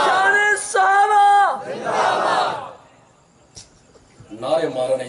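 A crowd at a religious gathering bellows a slogan in unison answering a takbir call, loud rhythmic shouted bursts with a single voice leading between them.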